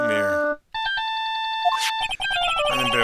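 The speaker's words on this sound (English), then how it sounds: "I bet it was this ringtone that caused it." A cell phone ringtone from the game Ace Attorney: Justice For All, Case 1, The Lost Turnabout. A short synthesized melody plays as bright, clean beeping notes, with a brief gap partway through before the tune continues.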